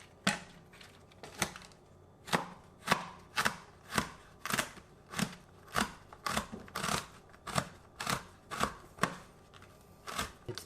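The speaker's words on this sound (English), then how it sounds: "Mostly you just shred them or cut them in small pieces." Crisp, steady knife chops on a board as a banana blossom is cut into small pieces for a Cambodian salad, a regular rhythm of about fifteen close strikes with no talk.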